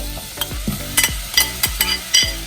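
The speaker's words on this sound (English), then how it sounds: "sweat your onions, medium temp, just until they're translucent" Onions sizzle in melted butter in a pan over medium heat, a close, steady hiss broken by repeated scraping stirs and soft knocks, with no voices.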